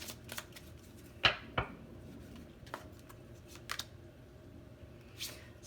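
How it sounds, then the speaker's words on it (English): A tarot card drawn from a deck gives a few soft papery snaps and slides, with a sharp flick near the middle, quiet and close against faint room noise. "Let's get one more card from this deck"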